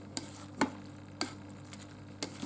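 Cabbage cooked in turkey broth being stirred inside an Instant Pot Ultra Mini pressure cooker, several sharp spoon knocks against the pot spaced apart over a faint background hum.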